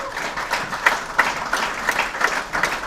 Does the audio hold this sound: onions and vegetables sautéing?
no